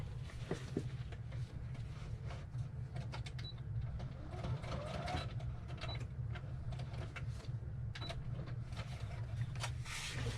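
A sewing machine runs a quick stitch through a paper index card in a rapid mechanical whirr of needle clicks. It is faint and steady against a quiet room, with a few small sharp ticks.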